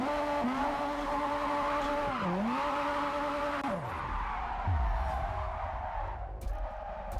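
An RX-7 drifting in JDM Japanese Drift Master, its engine note holding high and then dipping and rising with the throttle, the revs dropping near the end, with tire squeal and no talking.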